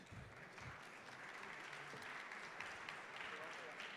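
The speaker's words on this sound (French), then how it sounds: "Sous vos applaudissements." Audience applause at the Global Industrie Awards ceremony, a faint, steady patter of clapping from a crowd with a few low thumps near the start, sustained throughout.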